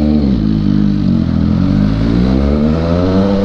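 A motorcycle engine idles and revs steadily close up, a deep throbbing exhaust note with a rough, clattering edge and no clear pops.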